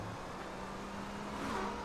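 A steady Cheetah sports car engine hum in GTA: San Andreas runs throughout, rising slightly toward the end as if revving, with no talking.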